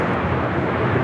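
Broadband jet roar from an airliner taking off from runway 25 right at LAX, steady, loud and close throughout, with no talk over it.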